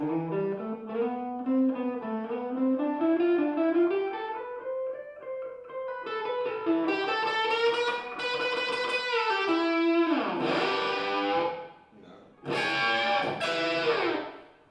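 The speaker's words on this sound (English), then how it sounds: "the actual distortion sound, if I pick lightly, it's still a dynamic distortion." Distorted electric guitar playing a sliding, bending melodic line, then choppy strummed chords, gritty and sustained, with no talking.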